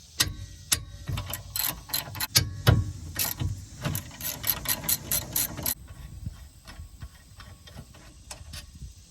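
Ratchet wrench clicking in quick bursts while loosening the 14 mm rear brake caliper bracket bolts on a Honda Element, close and fairly loud, then falling quieter toward the end.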